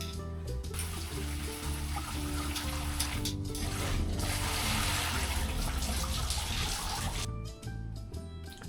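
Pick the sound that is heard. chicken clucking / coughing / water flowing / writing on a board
water flowing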